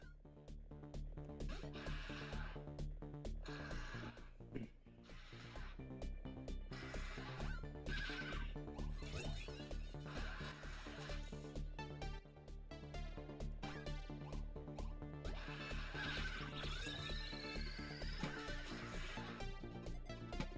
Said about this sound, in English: What's this horse doing?